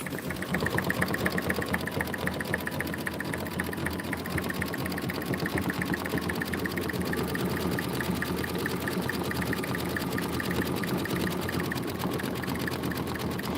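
Sewing machine stitching a quilt kit block runs steadily and close for the whole stretch, a continuous rapid mechanical whir with no voices.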